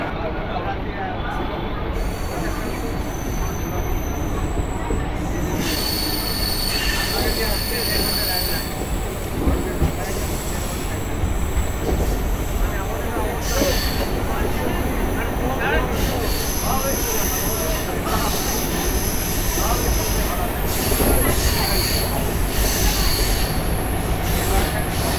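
A Howrah–Purulia MEMU local train pulls out of Bally station with a continuous loud rumble, squealing wheels and rail clatter. A voice speaks now and then over it.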